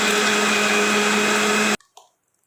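A blender grinds black grapes with jaggery and water into juice, a loud steady whir lasting nearly two seconds before cutting off abruptly, followed by a couple of faint clunks.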